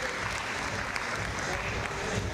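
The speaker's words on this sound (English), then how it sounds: "the crowd are giving these two a big round of applause" A crowd applauds two climbers after the multi-screen lead final at the British Lead Championships, with moderate clapping running steadily under a low background hum and murmur.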